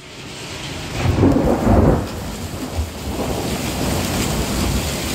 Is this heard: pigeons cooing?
no